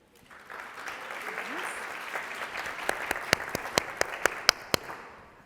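Applause from a conference audience during a talk, a dense wash of clapping that swells and then thins into a handful of loud, separate claps near the end.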